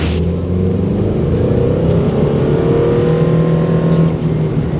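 A 2011 Subaru Legacy family wagon with all-wheel drive and a single-cam 2.5 litre boxer four with a cam belt, its engine droning and revving steadily and loudly without a break, with no voices heard over it.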